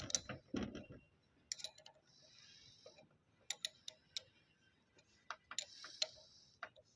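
A 17 wrench loosens the cap on the safety valve of an Eicher tractor hydraulic cylinder, producing faint, sparse metallic clicks and ticks in irregular little bursts, close up and quiet.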